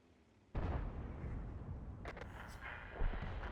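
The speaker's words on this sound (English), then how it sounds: "that Kunzi Panzer just got taken out by the artillery" An artillery shell hits a tank in a tank battle video game, a sudden loud close blast followed by a rumbling decay, with smaller crackles and a second thump shortly after.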